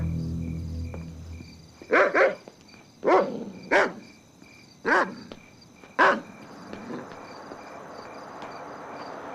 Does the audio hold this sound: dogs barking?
yes